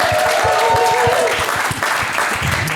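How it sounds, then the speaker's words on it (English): An audience at a speech event applauds a panel, dense and steady clapping heard loudly from within the room, with a low hum and some murmuring voices underneath. "Give a round of applause for our panel."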